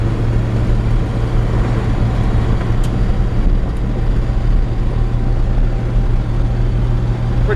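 A 1952 Chevrolet 3100 pickup truck in auburn red drives steadily, with a constant low engine hum and road rumble heard from inside the cab, loud and unbroken throughout, with no talking.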